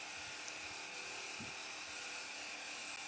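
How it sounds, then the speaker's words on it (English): A continuous mechanical drill whine from drilling through a door in a stealth heist video game, steady and moderately quiet throughout with a brief low thump partway through. "you can actually drill the entire door before the camera turns back around"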